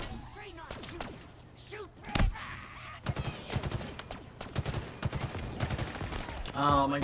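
Rapid bursts of gunfire in Halo Infinite crack repeatedly, some in quick automatic strings, mixed with thuds and a busy, cluttered game soundscape.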